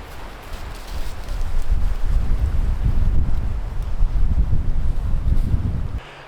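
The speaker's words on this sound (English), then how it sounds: "The wind's picking up too" Strong gusts buffet the microphone at a Scottish Highlands campsite, a heavy low rumbling roar that swells and holds for several seconds before cutting off abruptly near the end.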